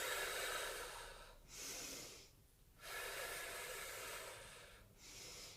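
Slow exhalations during a pregnancy and postnatal core exercise, two long soft breaths out separated by quiet inhales, close and steady with no talking.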